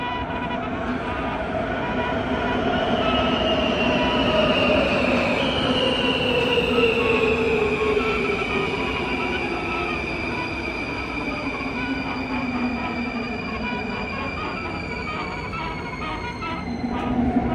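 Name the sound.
Warsaw metro train made by Skoda running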